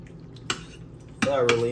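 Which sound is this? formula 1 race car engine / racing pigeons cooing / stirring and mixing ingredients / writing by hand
stirring and mixing ingredients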